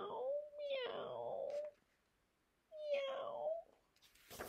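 A person's voice imitates a cat meowing twice during a reading of the nursery rhyme The Three Little Kittens, each drawn-out, wavering meow close and clear, separated by a short pause.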